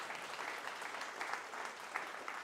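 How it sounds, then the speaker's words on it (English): Sustained applause from an office-hall audience thanking event sponsors: a thick, even patter of many clapping hands, fairly distant and unbroken, with no speech over it. "Another big round of applause for eDialog, Google, and eDynamics, our silver sponsors."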